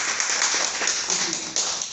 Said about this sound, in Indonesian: Tepuk tangan dulu dong kalau punya potensi.